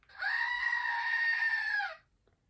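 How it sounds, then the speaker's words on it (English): A screaming goat novelty toy lets out one loud, sustained bleating scream lasting nearly two seconds, steady in pitch before it cuts off sharply, heard alone with no talking. "I got a screaming goat."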